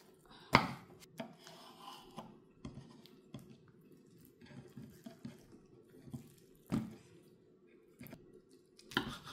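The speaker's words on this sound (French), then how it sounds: "Voilà, c'est cuit. Je vais couper." A knife chops cooked food on a board in a few sharp, irregular knocks spread through a quiet kitchen, with faint low background noise between the cuts.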